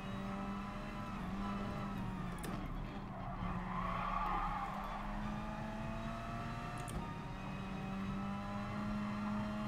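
Racing car tyres squeal in Gran Turismo Sport, a sustained skid tone riding over a steady engine drone, with a couple of brief sharp transients, all at moderate level without talk.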